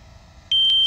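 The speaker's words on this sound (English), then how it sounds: "So it will start beeping now." A loud, high electronic low-battery warning tone from a DJI Mini 2 drone starts abruptly after a quiet hum and holds steady, with pulsing beeps layered on it, close by.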